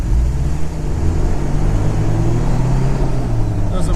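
A Toyota 22RE engine pulls away from a stop, a loud continuous engine drone rising steadily in pitch as it accelerates, heard from inside the cab.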